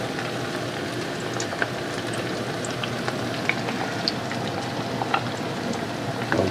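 Tempeh frying in spice paste in a pan, a steady close sizzle with crisp pops and crackles throughout and faint stirring, no talking.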